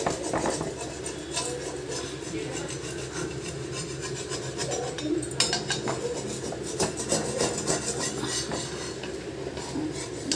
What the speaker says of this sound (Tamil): இது மாதிரி சுரண்டி எடுத்தால் அப்படியே வந்துடும்